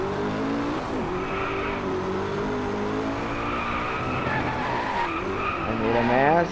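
Ferrari LaFerrari and McLaren P1 hypercars racing in the Driveclub video game, with a continuous loud engine drone, shifting revs and tire squeal through corners.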